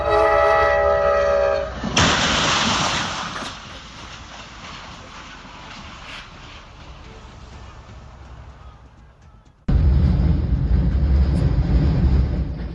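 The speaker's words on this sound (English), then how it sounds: "a train crashes into an abandoned car, warning us all to stay vigilant near railways." A train striking a car abandoned on the tracks: a loud rumbling roar and crash of rail noise, fading to a lower clatter, then a sudden loud burst of heavy train noise near the end.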